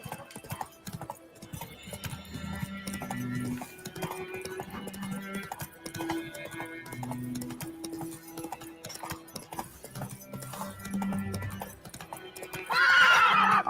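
A horse gallops in the Witcher 3 video game, steady rhythmic hoofbeats with a whinny near the end, set against game music and ambience.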